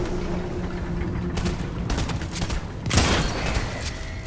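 Gunfire in the video game Fortnite comes in several sharp bursts, with a louder, denser volley near the end, over constant game background noise.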